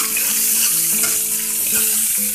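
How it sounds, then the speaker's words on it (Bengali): Onion and chili frying in mustard oil after garlic, a loud, close, continuous sizzle with faint clinks and scrapes of stirring, no voices. "পেঁয়াজ আর মরিচ পেঁয়াজ দিয়ে দিলাম"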